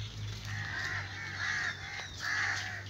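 Crows perched in mango trees on a farm caw loudly and repeatedly, harsh overlapping calls coming in three or four bursts close by, with no one talking.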